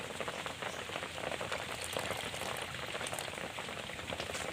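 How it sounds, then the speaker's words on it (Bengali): Besan batter for aloo chop being mixed by hand with a little water at a time: a steady, close, wet squelching and splashing that runs without a break and with no voices. "এবারে আমি জল দিয়ে অল্প অল্প করে ভালো করে মেশাতে থাকবো।"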